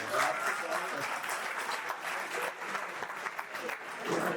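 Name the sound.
audience applause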